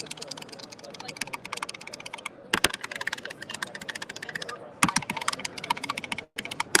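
Rapid keyboard clicking during a typing game at a live tech summit booth, with quick irregular bursts of keystrokes and occasional louder clacks, while people chat nearby.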